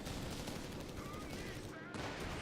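An anti-tank gun firing in Company of Heroes 3, with sharp reports buried in dense, continuous battle noise of gunfire and blasts that stays loud throughout.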